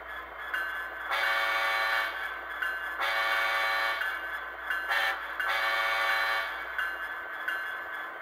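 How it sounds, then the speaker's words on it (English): K5LA train horn played through a Tsunami 2 sound decoder on a model locomotive, several sustained chord blasts of varying length with short gaps, fairly close and moderately loud. "I have K5LA 5 put on because it sounds more like the thing."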